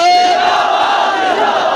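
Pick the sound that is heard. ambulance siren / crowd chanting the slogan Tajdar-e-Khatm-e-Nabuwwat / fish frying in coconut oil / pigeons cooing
crowd chanting the slogan Tajdar-e-Khatm-e-Nabuwwat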